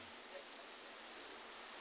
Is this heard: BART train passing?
no